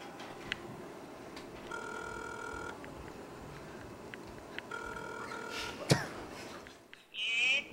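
Telephone heard during a call, with two bursts of ringing tone repeating over a steady background hiss and a short tonal beep near the end.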